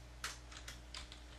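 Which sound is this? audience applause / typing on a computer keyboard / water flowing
typing on a computer keyboard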